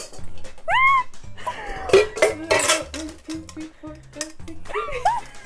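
A lid and glass baking pans, including Pyrex and Anchor 9x13 pans, are handled, giving several clinks and clatters amid kitchen clutter, with a cat meowing and soft background chatter.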